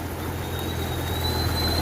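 A steady low engine drone with a thin high whine above it, like a tractor idling nearby, constant and unchanging.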